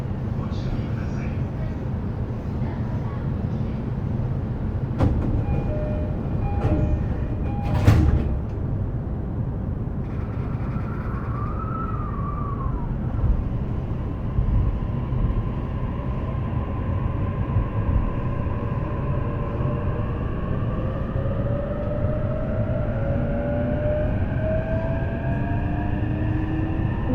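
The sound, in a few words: JR E233 series train running on Takasaki Line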